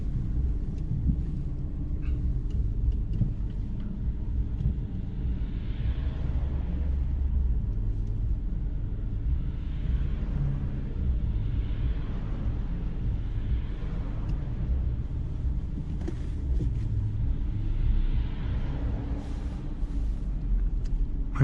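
A Renault Clio driven through traffic, heard from inside the cabin as a steady low engine and road rumble with occasional swells of passing vehicles, no talking.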